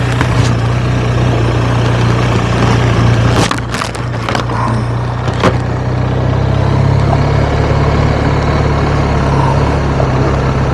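BMW R1250RT motorcycle engine idling steadily with a deep low hum, loud and continuous, broken by a few brief knocks and clunks partway through.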